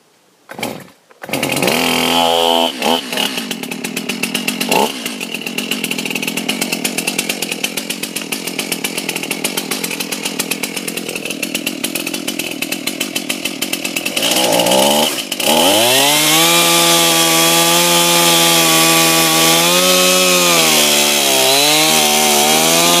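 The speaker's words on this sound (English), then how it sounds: "grab the chainsaw so we can cut a little bench into there" A chainsaw runs loud and close, its engine droning steadily, then revving up and down in waves as it bites into wood.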